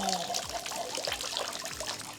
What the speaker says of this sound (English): this thing is continually dripping